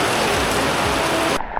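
Heavy rain pours down during the CULTRA 2026 trail ultramarathon event, a dense loud hiss of rainfall that holds steady before cutting away abruptly near the end.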